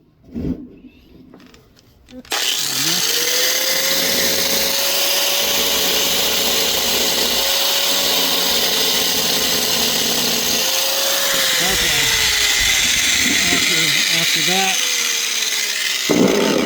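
A grinder works metal for a spark test on a Highland Park rock saw part, a loud continuous whine with a steady pitch that dips near the end, after a short quieter stretch at the start.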